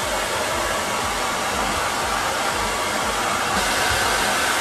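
A hair dryer runs steadily while drying a dog during an at-home grooming session, a loud continuous blowing roar with no pauses and no talk.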